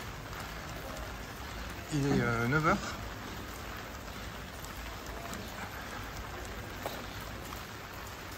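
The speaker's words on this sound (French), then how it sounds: "un peu de pluie" Steady rain patters softly throughout in Guernica, Spain, on the Camino del Norte, with a brief spoken phrase over it near the start.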